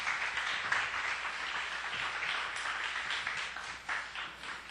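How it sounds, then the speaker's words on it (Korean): Church congregation gives a welcoming round of applause for a pastor stepping up, a soft but steady spread of clapping that continues for several seconds with no voices over it. "나오실 때 큰 박수로 축복하고 환영하겠습니다."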